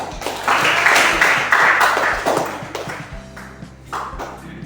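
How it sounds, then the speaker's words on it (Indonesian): A short burst of classroom clapping swells, then fades into scattered taps and thumps. "Tepuk tangan dulu"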